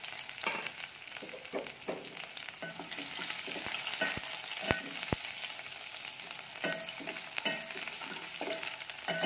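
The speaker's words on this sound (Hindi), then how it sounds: "प्याज को गोल्डन ब्राउन होने तक पकाएंगे" Onions sizzle and crackle in a hot pan, cooking toward golden brown, with occasional scraping and stirring clinks throughout.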